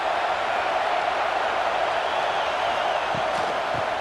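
A stadium crowd in the College Football 26 video game during a Texas A&M at Notre Dame matchup, a steady wash of roaring crowd noise filling the whole stretch at a constant level.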